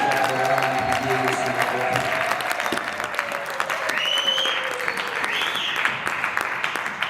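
Church congregation clapping and cheering during a worship service, steady dense applause with scattered shouts and voices throughout, loud and close.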